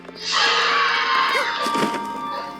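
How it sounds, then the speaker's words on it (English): Crowd of people screaming from under a mountain in a cartoon, a loud sustained wash of distant-sounding cries that swells then fades over a couple of seconds. "I hear people under the mountain, and they're screaming."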